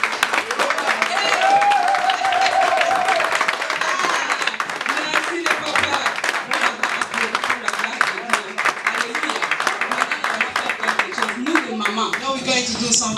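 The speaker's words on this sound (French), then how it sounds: "Les mamans, applaudissons pour nous-mêmes." A crowd of parents at a celebration applauds and cheers for themselves, steady dense clapping throughout with a voice speaking over it at the start and shouts rising near the end.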